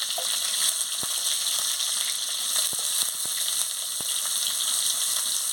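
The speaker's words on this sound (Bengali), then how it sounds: "তেল গরম হয়ে গেছে, আমি পেঁয়াজ কুচিটা দিয়ে দিচ্ছি।" Chopped onion hitting hot oil in a wok-style pan, giving a steady, close sizzle that runs unbroken, with a few sharp ticks and pops scattered through it.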